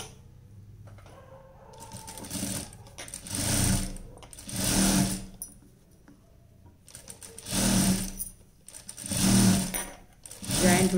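A sewing machine stitching cloth for underwear runs in several distinct bursts of rapid mechanical whirring with quiet pauses between them, fairly close, while a person talks softly.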